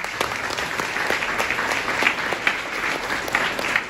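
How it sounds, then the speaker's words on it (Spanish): An audience gives a sustained round of applause for outstanding students at an awards ceremony in Valparaíso, with dense, even hand-clapping filling the hall and no talk over it. "Les pido, brindemos otro fuerte aplauso"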